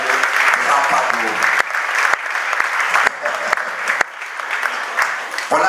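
Congregation at a French-language church service applauding, a dense sustained roar of clapping with sharp individual claps popping out, while a preacher's voice carries over the top.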